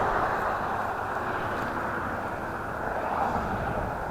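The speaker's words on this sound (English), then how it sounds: "I hear an aircraft." An aircraft flies overhead near an airport, a steady broad rumbling roar that holds at a constant loudness throughout, with no voices.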